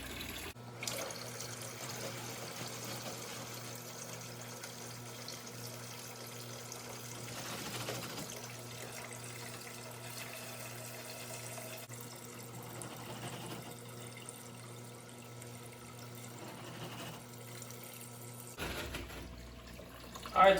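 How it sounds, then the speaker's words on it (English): Water pours steadily into a fish tank, a faint continuous rushing and trickling that runs nearly unbroken before stopping near the end. "I'll show you how we're going to fill the tank up"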